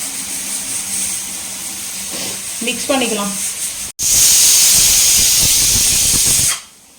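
A pressure cooker steaming rice at home lets out a loud, forceful hiss that bursts on suddenly after a brief pause and holds strong for several seconds before cutting off. A softer hiss and a short clatter come before it.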